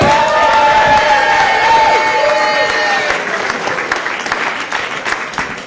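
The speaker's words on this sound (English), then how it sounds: "It's a very polite round of applause." A comedy club audience at a stand-up show gives a polite round of applause, steady dense clapping that holds for several seconds and then thins out.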